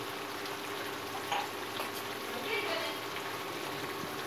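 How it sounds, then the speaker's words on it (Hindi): Mutton frying in oil in a karahi with spices such as coriander and cumin gives a steady, moderately loud sizzling hiss with faint crackles throughout. "अब हम इसे थोड़ी देर ऑयल में फ्राई करेंगे।"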